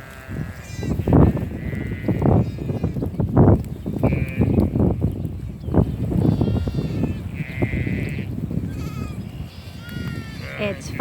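Sheep and ewes bleat repeatedly in a large lambing pasture, several overlapping calls near and farther off, while a person talks steadily throughout.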